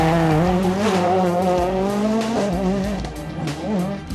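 A Ford rally car on a tarmac stage of the Rallye d'Antibes, its engine loud and close, revving high with gear changes and tyre noise as it charges through the stage.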